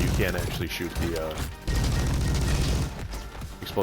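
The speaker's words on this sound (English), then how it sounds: "They're pretty big explosions." Big explosive barrels blowing up in the Roboquest shooter game: loud, booming blasts with crashing debris, coming in bursts amid gunfire and game audio.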